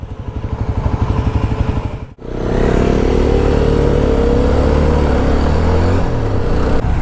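Yezdi Roadster motorcycle engine while riding on an open road, a loud steady drone with a brief dip and then a strong rising rev that holds at high pitch, with wind noise throughout.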